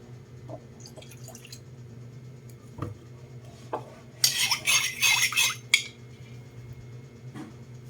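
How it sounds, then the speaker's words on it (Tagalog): Soy sauce is poured while a whole chicken is prepared for the air fryer, giving a short, close liquid splash and trickle of about a second and a half. Soft drips and light clinks of kitchenware come before it over a low steady hum. "Dagdagan ko ng toyo."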